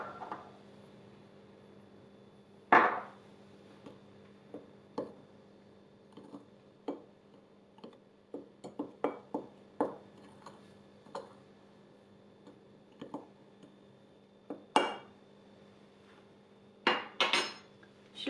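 A spoon clinks and taps sporadically against a bowl while flour is mixed with baking powder, baking soda and salt, with sharp isolated knocks separated by quiet gaps.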